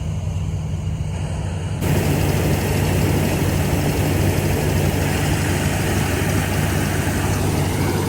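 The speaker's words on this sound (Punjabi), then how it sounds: "ਬਾਕੀ ਟਰੈਕਟਰ ਵੀ ਵਧੀਆ ਬਾਈ ਮੈਸੀ ਚਲਾ ਕੇ ਦੇਖਿਆ" A Massey tractor engine idles steadily with a deep, constant rumble, growing slightly louder after a moment and holding on without talk.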